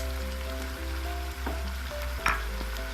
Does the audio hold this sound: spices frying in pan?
yes